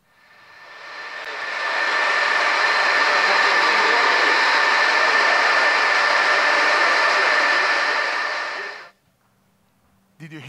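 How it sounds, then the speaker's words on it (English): Loud, steady whirring hum of server farm machinery with a faint high whine, swelling in over two seconds, holding evenly, then cutting off abruptly near the end. "That was the sound of server farms working all the time to keep"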